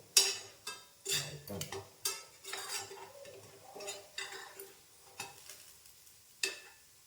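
Flowers fry in oil in a pan, a soft sizzle under repeated scraping and clinking strokes of a metal spoon stirring, close by and moderately quiet, with no talking.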